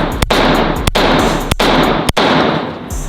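Gunfire at an outdoor shooting range: loud, close shots in quick succession, about five sharp cracks over three seconds, each trailing into a dense wash of echo and range noise.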